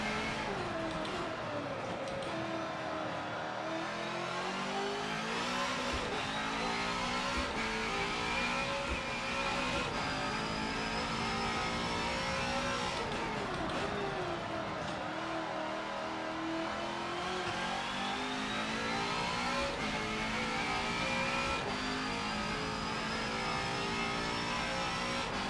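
A 2003 race car engine revving hard in a racing simulator, a continuous loud wail climbing through the gears with brief drops at each shift, sustained throughout.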